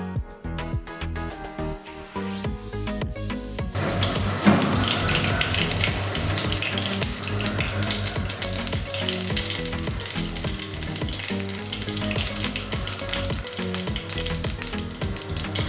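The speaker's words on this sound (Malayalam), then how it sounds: "അതിലോട്ട് ഞാൻ കടുക് ഇടുന്നുണ്ട്." Mustard seeds crackling and sizzling in hot oil for a Karnataka-style puliyogare, a bright continuous frying hiss with scattered pops, joined early on by clinking kitchen sounds and backed by music throughout.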